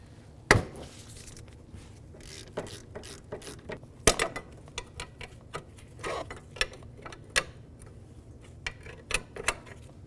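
A ratchet with a 14mm socket works on a caliper bracket bolt of a 2005-2009 Subaru Outback's rear brakes, giving a run of quiet, irregular metallic clicks and a couple of sharper snaps at close range.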